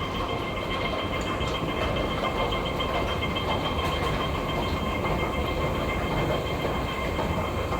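Hong Kong MTR subway train running, a loud steady rumble and rail roar with faint clatter throughout, no talking.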